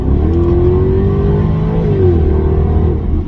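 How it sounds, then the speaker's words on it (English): A Jaguar XKR X150 facelift engine pulls hard through its gear changes in sport mode, a steady loud rising drone with a brief dip in pitch as a shift lands, heard from inside without talk. "we can hear it as it changes gears, that sort of noise as it launches itself into the next gear"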